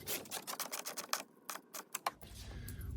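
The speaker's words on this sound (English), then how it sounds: "Take the hardware and just tighten the muffler to the belly pan." Muffler hardware is tightened against a snowmobile belly pan during an HPS performance exhaust install on an Arctic Cat C-Tec2 sled, a run of close clicking, ratcheting metal taps in quick irregular bursts.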